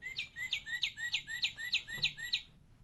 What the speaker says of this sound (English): The Northern Cardinal.